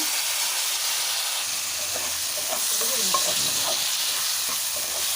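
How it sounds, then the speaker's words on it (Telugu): Boiled black-eyed peas being stirred in a hot frying pan, with a loud, steady sizzle and hiss and scraping stir sounds running throughout, no voices. "ఇందులోకి మనం ముందుగా ఉడకబెట్టి పక్కకు పెట్టుకున్న బబ్బర్లను అయితే ఇందులో యాడ్ చేసుకోవాలి"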